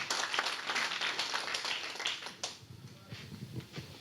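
Audience applause at a New Jersey tech meetup pitch event, a dense, steady patter of many hands that is loudest at first and then thins out, with voices faintly underneath.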